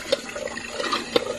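Water drips and splashes from a repaired hand pump with a newly replaced piston seal, a short, close trickle with two brighter splashy drops.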